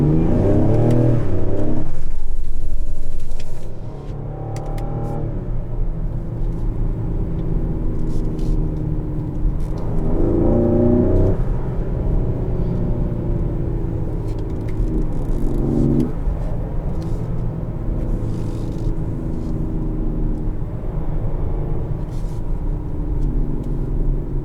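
The 2020 Ford Explorer ST engine is heard from inside the cabin, a loud low roar that climbs in pitch through several rising surges as it accelerates, with steady road rumble underneath.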